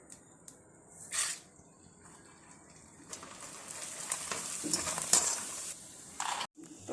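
Small bhungli fryums fry in hot oil in a home kitchen, a faint, steady sizzle and crackle with occasional stirring clicks and a louder bubbling stretch toward the end.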